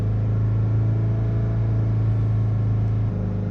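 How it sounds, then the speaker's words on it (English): Toyota Avensis diesel engine held steady at about 3000 RPM, a constant loud droning hum with no change in pitch, heard close up and alone. "We're going to hold the revs up around about 3000 RPM for"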